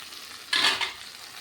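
Tomato, ginger and chili hit hot oil in a pan over medium-low flame, a sudden loud burst of sizzling that swells briefly, then fades back to a low steady fry with no talking.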